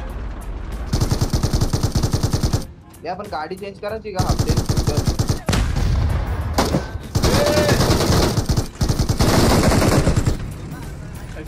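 Rapid bursts of automatic gunfire in the BGMI battle royale video game during a custom tank-war match, repeated volleys loud and close, broken by short pauses, with players talking over the shooting.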